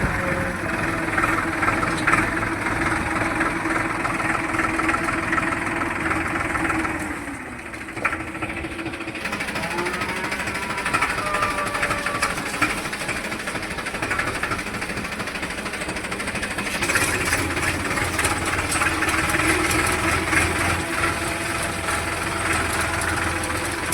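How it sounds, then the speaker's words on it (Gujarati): A tractor engine idles steadily and close by, a continuous low mechanical rumble with a slight knock that dips briefly about a third of the way through, while the vehicle is out hauling away waste. "ટ્રેક્ટર લઈને તમે જોઈ શકો છો"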